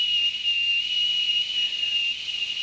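A steady, high, piercing whistle like a boiling teapot sounds continuously and loudly on a single pitch, with only a faint low rumble underneath.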